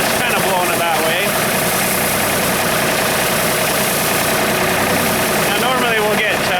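A road sweeper's blower engine runs steadily at moderate revs while clearing dust off a road, a loud, continuous droning roar with a constant rumble throughout.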